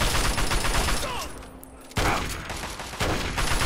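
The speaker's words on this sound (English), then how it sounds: "Who's shooting me?" Gunfire in the video game Fallout 3 comes as dense, rattling bursts, with a sharp volley cutting in midway and another shortly after, all loud and close over a busy game soundscape.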